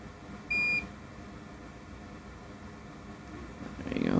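A single short electronic beep, clear and steady, over a low background hum, followed by rising rustling noise.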